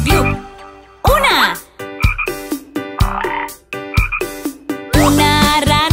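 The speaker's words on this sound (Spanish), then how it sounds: "Una rana manchada en un tronco sentada come deliciosos bichitos." Loud, close frog croaks come in a run of sharp, repeated calls with brief gaps between them, set inside a Spanish-language children's song about a spotted frog sitting on a log.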